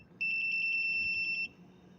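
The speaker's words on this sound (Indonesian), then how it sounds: "sensor ini mendeteksi adanya api, maka buzzer akan menyala" A flame sensor's buzzer on a smart home prototype gives a short run of rapid, evenly spaced electronic beeps that merge into a shrill pulsing tone lasting just over a second, loud and close over faint room noise.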